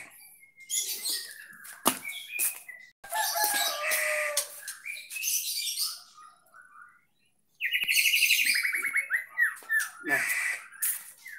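A young wild forest songbird chirps and tweets in bright, repeated bursts while being tamed and hand-fed, sounding close and clear, with someone speaking in between the calls.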